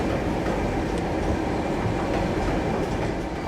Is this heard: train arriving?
yes